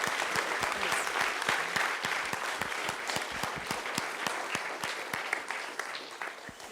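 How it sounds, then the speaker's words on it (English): Conference audience at a human rights event applauding warmly, a full steady clatter of many hands with a few sharper nearby claps standing out, fading slightly toward the end. "I would like to ask for a warm round of applause for these two sheroes"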